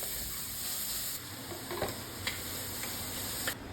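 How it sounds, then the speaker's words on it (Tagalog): Garlic, onion and tomatoes sautéing in a pan, a continuous close sizzle with a few soft stirring knocks from a utensil. "magigisa lang siya ng garlic, onion, at saka tomatoes"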